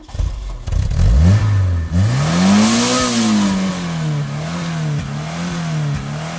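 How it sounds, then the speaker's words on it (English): A custom toy drag racer's engine revs up and climbs in pitch, then holds a loud, steady drone with slight wavering for several seconds, alone and close. "Drivers, start your engines."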